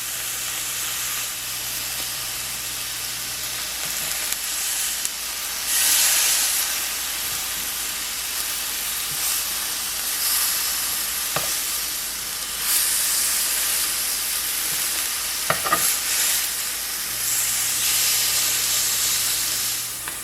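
A seasoned steak sears in a hot cast iron pan with salt, pepper and garlic powder, giving a steady, loud, continuous sizzle with a few sharper pops and crackles throughout.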